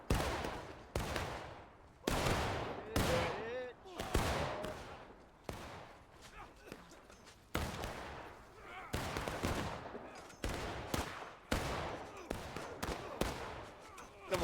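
Gunfire in a War of Brothers video game battle, with loud, repeated rifle and musket shots in rapid irregular bursts, some overlapping, carrying on steadily throughout.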